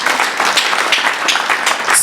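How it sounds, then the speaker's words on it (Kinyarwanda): A church congregation breaks into steady, dense applause, a close wash of many hands clapping continuously throughout, with a faint voice mixed in underneath. "Komera Imana amashyi."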